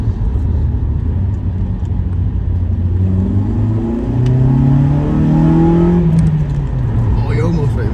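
A stock Honda with a Jackspeed intake revs up close and loud, its engine note climbing steadily toward the VTEC crossover and turning harsher and higher in pitch before dropping back.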